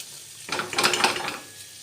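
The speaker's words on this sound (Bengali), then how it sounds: "মশলাটার মধ্যে আলু আর ছোলাটা মিশিয়ে নেব।" Potatoes and chickpeas stirred into a spice mix in a pan, a brief burst of scraping, clattering and sizzling lasting about a second between quiet moments.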